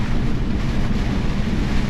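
Strong wind from Storm Babet buffets the microphone with a constant low roar, loud and unbroken, no voices.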